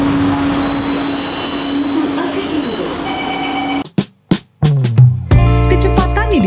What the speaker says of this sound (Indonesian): Ditempuh oleh LRT mencapai kecepatan 50 km per jam hingga kecepatan maksimum 90 km per jam.